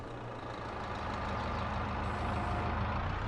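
An engine in a full tree harvester with a tilt head in Farming Simulator 22 runs steadily and loud, a low continuous drone that swells slightly toward the end, heard alone without talk.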